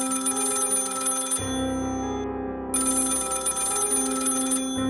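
A telephone rings in a tense scene from the Korean drama series Squid Game, its steady bell-like tone sounding in two long bursts with a short gap, clear and prominent over a sustained musical underscore.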